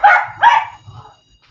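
A dog gives two sharp, loud barks in quick succession, close by, followed by a fainter trailing yip.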